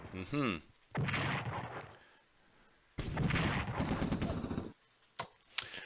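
Heavy artillery booms in two long rumbling barrages from the WWII strategy game Strategic Command, separated by a short quiet gap, with a few sharper single reports at the end.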